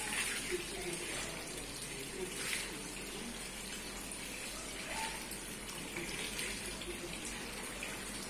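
Wheat grains being washed in water during traditional Pakistani village cooking, giving a steady running, splashing wash with soft sloshing throughout, close and moderately loud with no talk.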